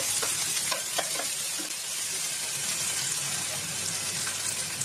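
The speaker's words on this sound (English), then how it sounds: "In we go now with our cherry tomatoes." Cherry tomatoes land in a hot pan and fry with a loud, steady, crackling sizzle that carries on throughout, close up and with no talking.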